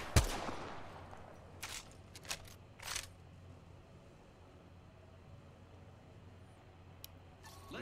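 Apex Legends gunfire rings out as a sharp close shot followed by a few scattered bursts and single reports over a low, quiet game ambience.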